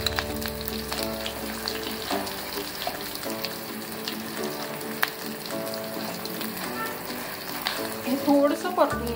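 Ground onion and coconut paste sautés with curry leaves and a little coriander for an old-style katachi amti, a steady moderate sizzle with occasional stirring scrapes, continuous and close, getting livelier near the end.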